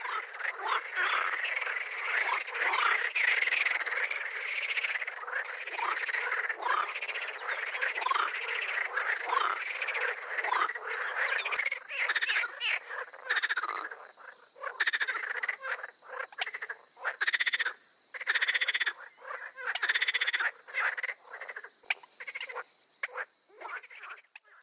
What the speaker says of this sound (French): La grenouille verte, elle, passe son temps dans l'eau, et la discrétion n'est pas dans ses habitudes.